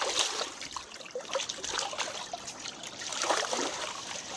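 Shallow, ankle-deep stream water trickles and burbles softly at close range, with small irregular splashy bubbles over a quiet, steady wash.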